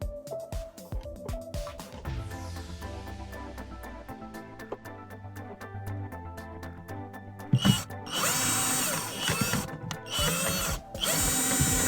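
A power drill unscrews hardware from RV cabinet doors, with clicks and rattles, a steady motor whir in the middle, then louder, harsher drilling bursts near the end, all close up.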